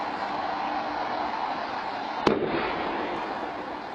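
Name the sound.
distant bomb explosion recorded by home security camera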